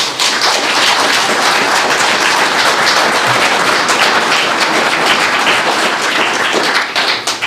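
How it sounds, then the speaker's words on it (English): An audience at a Mason County Superior Court judge candidates forum gives a round of applause, dense continuous clapping held at a steady loud level for about seven seconds before it trails off. "If we could just offer a round of applause for both candidates."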